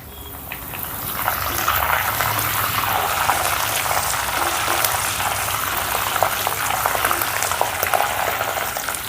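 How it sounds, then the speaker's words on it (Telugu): Curry leaves crackle and sizzle in hot oil alongside garlic cloves fried golden, a steady dense frying hiss throughout, close and fairly loud with no talking. "ఇప్పుడు ఇందులోనే 2 రెబ్బలు కరివేపాకు కూడా వేసుకుందాం."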